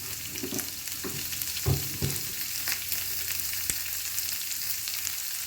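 Onions with a little salt sauté in a pan for spicy kara paniyaram, giving a continuous crackling sizzle with a few stirring knocks and scrapes near the start, close up and without speech.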